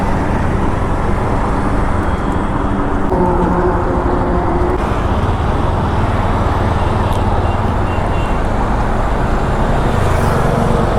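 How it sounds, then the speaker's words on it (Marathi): Steady road traffic on a busy holiday outing, heard from a motorbike: a continuous dense rumble of cars and other vehicles, loud and unbroken throughout, with no clear speech. "काय ट्रॅफिक आहे आज."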